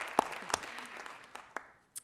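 Sparse, scattered hand claps from an audience at a Sacramento City Unified School District board meeting, a few distinct claps spread over two seconds and then fading out, fairly quiet in a large room.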